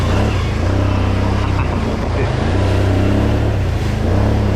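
A two-wheel drive off-road vehicle crawls through rain and mud, its engine a steady, loud, close low drone with a deep rumbling hum that holds constant throughout.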